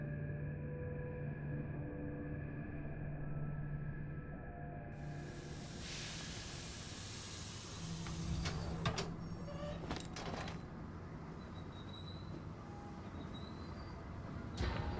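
A train in the video game Pathologic 2 releases a sudden, sustained hiss of steam that cuts in over a low, quiet rumble and continues with faint clanks and knocks, with no talking.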